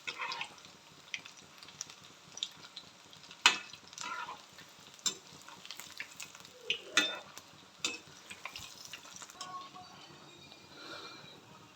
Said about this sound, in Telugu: ఇట్లా పునుగులను మంచిగా దూరగా వేయించుకోవాలి.